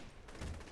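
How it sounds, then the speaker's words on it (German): Brief, muffled bursts of video-game gunfire from Saints Row: The Third, a quick rattle of shots heard faintly and without voices. "Ich schieß gerade noch auf jemanden."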